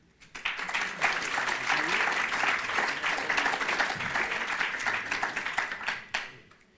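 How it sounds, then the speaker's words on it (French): An audience at a round-table business event claps for a person joining the stage, a crisp burst of many hands that builds, holds for several seconds, then tapers off. "on l'applaudit"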